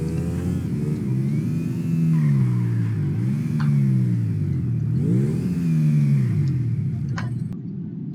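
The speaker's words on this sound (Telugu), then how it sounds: "సో ఇది అవెంటడోర్ తీసుకొని వెళ్ళిపోదాం ఇప్పటి నుంచి." A Lamborghini Aventador supercar in GTA gameplay revs its engine steadily, with the pitch swelling and falling in repeated surges, loud and close, with no voices over it.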